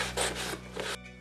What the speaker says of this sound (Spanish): lo que estoy haciendo es lijar con esta lija